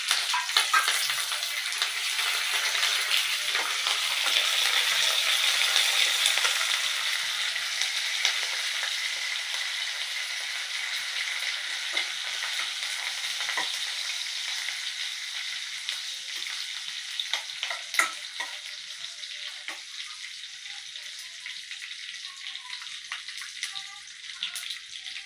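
Cumin, mustard seeds, dried red chillies and curry leaves frying in oil for a peanut chutney tempering, a close, continuous sizzle that slowly softens over time, scattered with small crackles and no voices.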